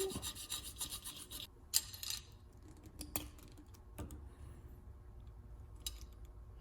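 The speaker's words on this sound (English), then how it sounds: "Just like to kind of go clean these burrs off real quick." A hand file scrapes burrs off copper pipe during a coolant install on a Celica with a 3SGE Beams engine swap, giving faint, irregular rasping strokes with a few sharper ticks and knocks, close by and without voices.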